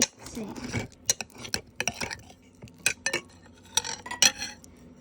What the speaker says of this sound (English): So I'm just mixing it with my hands.